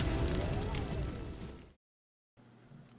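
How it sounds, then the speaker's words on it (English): A grenade going off in the XCOM 2 game: one loud, close blast rumbling and fading over about a second and a half, then a moment of silence before quiet background sound returns. "Grenade."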